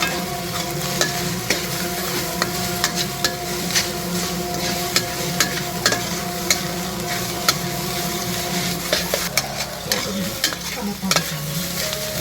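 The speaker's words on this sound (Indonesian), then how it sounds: "Masukkan tomatnya. Kita masukkan sayur, diaduk." Vegetables and tomato stir-fried for durian fried rice, with a steady close sizzle and frequent scraping, clattering stirs against the pan, alone without talk.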